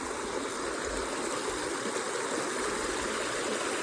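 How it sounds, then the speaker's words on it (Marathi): River water flowing in the countryside, a steady broadband rush that stays loud and even throughout with no talk over it. "आडानी ही आमची नदी आहे पूर्ण"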